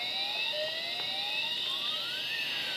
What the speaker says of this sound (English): you can hear our siren sound effect from the alarm IC